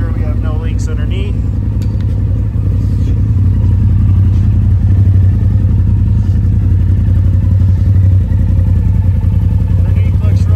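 Engine of a Polaris Turbo R side-by-side idling after an oil change, a loud, steady, close rumble that runs throughout with a slight rattle.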